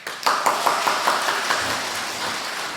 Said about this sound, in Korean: 우리 선교사님 나오실 때 우리 박수로 환영하도록 하겠습니다